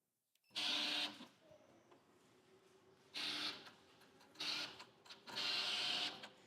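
Window tint film cutting machine (plotter) on film clamped down in a tint studio, running in three or four bursts of whirring, buzzing motor noise with short pauses between as it stops and moves back, close and fairly loud.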